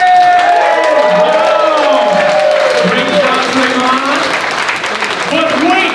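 A lively event crowd cheers, whoops and claps for the announced favorite team, with excited shouts and applause rising and falling over several seconds.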